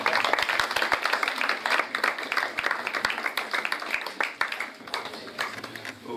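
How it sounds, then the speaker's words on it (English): An audience at a blockchain event claps loudly and unevenly, individual sharp claps standing out from the crowd throughout. "A huge round of applause,"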